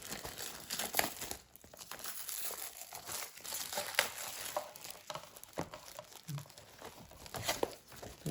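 Plastic wrapping on a Blackwing sketchbook being ripped off by hand: a steady, close run of crinkling, crumpling and tearing that lasts several seconds, with no one talking.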